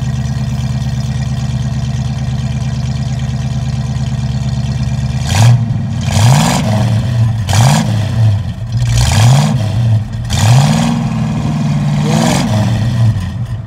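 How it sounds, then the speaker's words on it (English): A Mercury Cougar XR7 engine idling with a deep exhaust note, then revved several times in quick blips that rise and fall back to idle, loud and close. "Can you hit the gas?"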